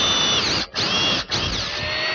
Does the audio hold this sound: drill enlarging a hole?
yes